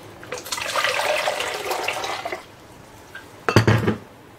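Water pours into a soup pot for a gyros-style meat and potato soup: a steady, splashing stream runs for about two seconds, then a short, louder second pour follows, with no talking.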